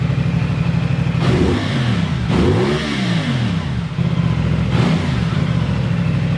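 A 2025 CF Moto 450 SR-S with quick shifter, engine warmed to about 60 Celsius, revving up and down in loud repeated bursts close by, with rising and falling engine pitch between steady idle stretches and no talking over it.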